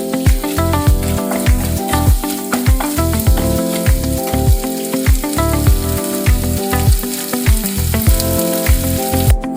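Fresh spinach hits a hot pan with garlic and peas, giving a loud, close, crackling sizzle with rapid irregular pops and stirring clatter that carries on steadily for nearly ten seconds.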